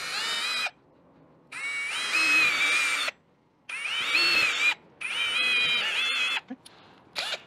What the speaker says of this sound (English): we can finish our holes here.